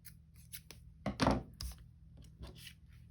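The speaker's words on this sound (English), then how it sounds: "These new scissors didn't want to cut through it." Close, quiet snips of scissors cutting paper, a few short crisp clips with one louder, longer cut in the middle, no talking.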